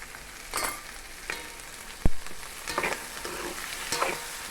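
A spoon stirs salt into a tomato and capsicum curry in a pan, scraping in steady strokes with a sharp knock partway through, over a low continuous sizzle close by.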